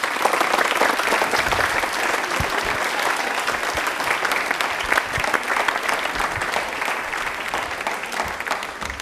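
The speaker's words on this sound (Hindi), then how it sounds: "विशाल के लिए तालियां प्लीज दे दीजिए।" Studio audience applause for a contestant on a televised railway-themed quiz programme, steady dense clapping lasting throughout with no break.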